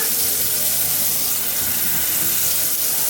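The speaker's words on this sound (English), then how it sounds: "И се напълнаме вода. 2 чаши." Two cups of water pour steadily into a pot as part of making Macedonian stuffed peppers, a loud, close and continuous rushing splash that runs the whole clip with no break.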